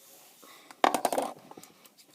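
Purple goo-like slime is squished by hand close up, giving a short burst of wet squelching and crackling pops lasting about half a second, then softer faint squishes.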